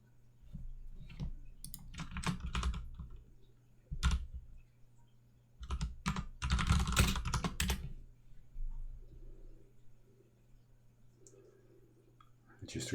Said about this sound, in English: I just realized I forgot to mute while typing.